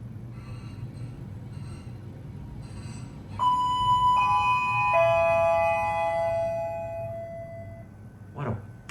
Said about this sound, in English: What a beautiful sounding chime.